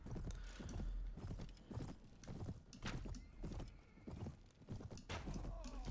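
Horse hooves in the video game Mount & Blade: Warband, a quiet rhythmic clip-clop of repeated hoof beats at a steady gallop pace, faint and alone.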